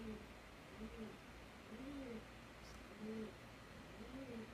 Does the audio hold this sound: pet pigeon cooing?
yes